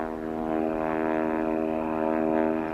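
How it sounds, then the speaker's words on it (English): A steady propeller-plane engine drone with dense harmonic hum holds at a constant, fairly loud level throughout, giving a sense of an aircraft near and coming in, with no talk over it. "There's a plane coming in."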